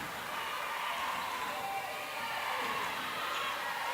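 A basketball crowd at a girls' high school game in a gym keeps up a steady, distant roar of cheering and chatter with no breaks.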